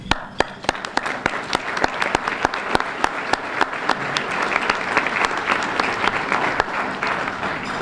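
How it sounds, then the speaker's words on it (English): Audience applause at a historical preservation awards ceremony in Louisiana, steady and fairly close, with crisp individual claps standing out over a continuous patter for the full stretch. "it is the ladies of FHL who deserve a round of applause"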